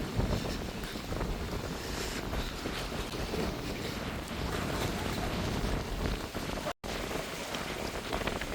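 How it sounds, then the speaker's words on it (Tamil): Storm winds lashing coconut palms near Jaffna: a steady, roaring rush of gusts with a rain-like hiss and microphone buffeting, no talking. "இந்த மரத்து தென்னை மரத்தை எப்படி அந்த காற்று அடிக்கிறதுன்னு பாருங்க."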